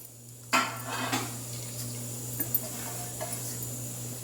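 Chili powder and salt stirred into sesame powder in a dish for a raw mango pickle: a sharp clink of a utensil against the bowl, then a few soft scrapes and light taps, close and quiet.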